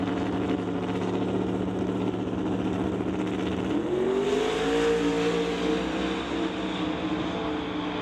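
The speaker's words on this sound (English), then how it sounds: "Good drag race" Drag race cars accelerate hard down the strip at an outlaw 275 event, making a loud continuous engine roar whose pitch climbs midway as they pull away. No voices are heard.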